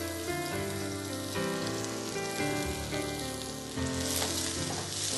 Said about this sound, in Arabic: راح نضيف البصل اللي فرمناه